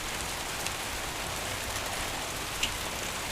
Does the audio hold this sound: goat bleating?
no